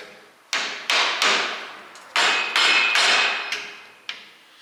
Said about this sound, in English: A couple taps with the hammer,